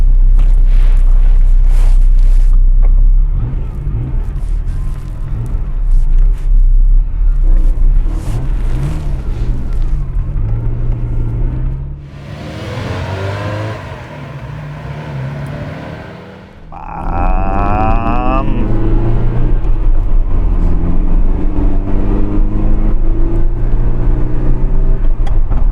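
Ferrari Berlinetta 328 or 348 engine running loud and close, with deep rumbling, revs rising and falling, a quieter stretch midway, then a strong rising surge of revving.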